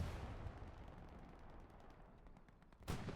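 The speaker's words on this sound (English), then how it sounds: "Drunky absolutely laying down hate again with the MG off the hip." Distant machine gun fire in a Hell Let Loose competitive match crackles as a sustained stream of rapid shots, faint and far off, ending with a sharper louder burst.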